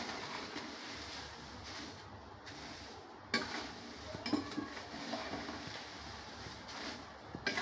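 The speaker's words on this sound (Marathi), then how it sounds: "बघा ह्याप्रमाणे हलक्या हाताने हे सगळे मिक्स करून घ्यायचे" Poha chivda being gently tossed with roasted dal and peanuts in a pan, giving soft, faint scraping and rustling stirs that continue steadily with a few light clinks.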